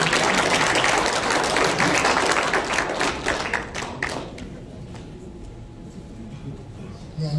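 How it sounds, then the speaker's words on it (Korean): Audience at a Democratic Party lecture event applauding as a city mayor is welcomed to the stage, a dense burst of clapping that thins out and fades to a quiet room. "박수 부탁드리겠습니다"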